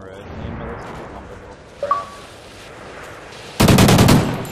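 A quiet stretch of shooter video game ambience, with a brief electronic blip, gives way to a loud, rapid burst of automatic gunfire near the end.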